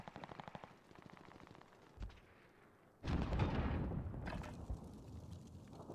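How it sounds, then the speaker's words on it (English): Video game gunfire in a multiplayer firefight: rapid automatic bursts at first, a lone thump, then a loud sustained barrage of shots and rumbling blasts, close and dense. "We're taking fire."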